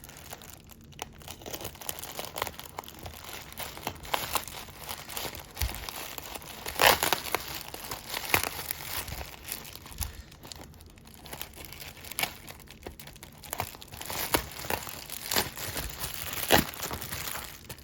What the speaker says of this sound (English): Let's see if we can just maybe rip this.